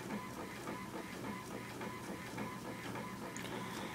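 A home printer prints a large picture sent wirelessly over AirPrint, giving a steady close mechanical whir with faint repeating ticks and rattles throughout, no talk.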